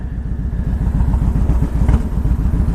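A 2000 Harley Davidson Ultra Classic motorcycle rumbles loudly and close while being ridden on a road. Its deep engine pulses at a steady, fast cadence from start to end.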